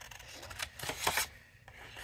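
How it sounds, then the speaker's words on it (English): Scissors snip and rasp through paper as a design is fussy cut out by hand, a few soft close cuts in a quiet room. "I am going to fussy cut"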